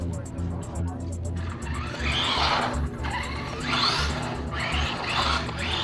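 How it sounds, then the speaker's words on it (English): A Traxxas RC car with a custom front bumper spins donuts, its small electric motor whining in rising and falling surges while the tires skid and scrub in repeated sweeps over a constant background rumble. "it can do donuts for days now that the front tires have some weight over them"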